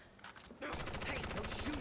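Rapid automatic gunfire bursts from a battle in the video game Final Fantasy 7 Remake, starting quieter then swelling into a loud, sustained rattling volley.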